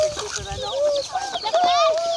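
Chickens cluck and call up close on a Thai farm where ducks and chickens are raised for sale, several rising, warbling calls overlapping in quick succession.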